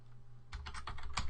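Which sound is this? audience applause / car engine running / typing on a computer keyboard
typing on a computer keyboard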